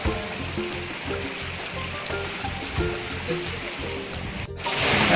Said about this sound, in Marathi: महादारातून वरती आल्यानंतर बघा असं पाणी चालू आहे वरती